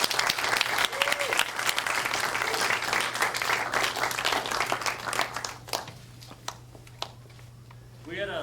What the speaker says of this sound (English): get a huge round of applause for Mr. Phil Chambliss